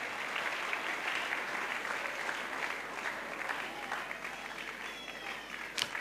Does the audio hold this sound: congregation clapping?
yes